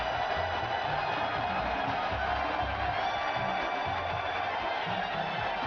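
A steady, dense crowd roar fills a video game arena in WWE 2K16, with cheering holding at an even, moderate level throughout.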